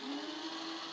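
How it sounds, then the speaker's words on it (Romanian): A blender whirs loudly and steadily, pureeing a sour cherry and raspberry sauce, its motor holding a constant high-pitched drone for the whole second. "Pasăm tot cu un blender."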